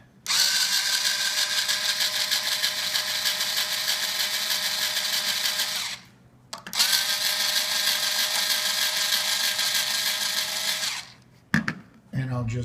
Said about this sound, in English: the very useful EARNIE ball string winder